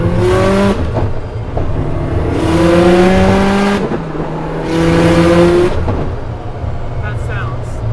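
Nissan Silvia S13 240SX drift car engine revving in repeated rising surges with shifting pitch, loud and close, under voices talking inside the cabin.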